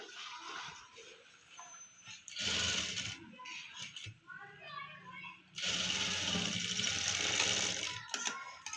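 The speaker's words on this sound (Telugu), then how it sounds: "నెక్స్ట్ మళ్ళీ దీన్ని స్టిచ్ చేసేసుకోవాలి" Sewing machine stitching a fabric collar runs in two bursts of fast mechanical whirring, a short one and then a longer stretch, with a person talking in the quieter gaps.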